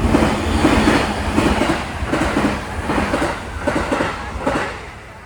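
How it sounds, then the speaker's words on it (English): A train rolls past nearby, a steady rumbling roar with rhythmic clickety-clack from the wheels over the rail joints, holding loud throughout. "Train coming."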